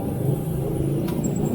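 Steady road traffic rumbling close by, with motor tricycles and bikes moving past in a continuous low drone and no voices.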